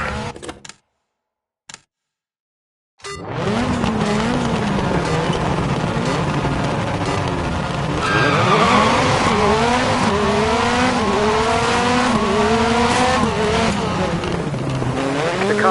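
A rallycross race car roars through the Joker lap, tires squealing and skidding as the engine revs rise and fall loudly after a brief quiet start.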